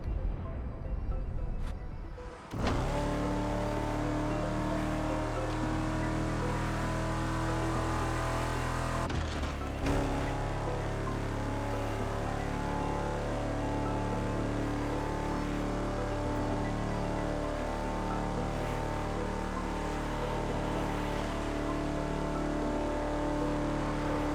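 A car driven in The Crew Motorfest gives off a steady, loud engine drone that runs continuously throughout, with a brief dip and a shift in tone partway through, as if changing gear or speed. No one talks over it.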